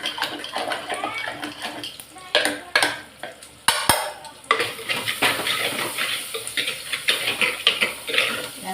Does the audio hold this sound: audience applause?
no